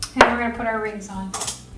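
Metal canning rings clink against jars and each other while being fitted onto jars of home-canned butter, a sharp close clatter at the start followed by softer scraping and a second burst of light metallic rattling.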